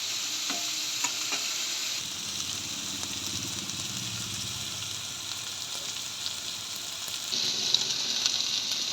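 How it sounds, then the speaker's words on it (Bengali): Potatoes frying in mustard oil give off a steady, close sizzle with occasional stirring scrapes, and the crackle swells louder near the end. "আলুটাকে একটু ভালো করে ভেজে দিচ্ছি।"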